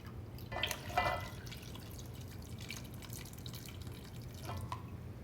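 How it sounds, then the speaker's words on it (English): White vinegar being poured into hot sauce gives faint, close liquid trickling and dripping, with a couple of brighter splashes near the start and again toward the end, over a quiet background hum and no talk. "I'm gonna add the vinegar."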